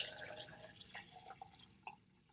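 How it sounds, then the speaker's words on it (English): Murky green water poured back into a cup during a weathering lesson gives faint, scattered drips and small splashes close by, thinning out toward the end. "So now I'm going to add my water back in."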